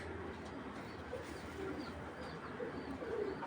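Soft pigeon coos rise a few times over a steady background hiss, moderately near and fairly quiet.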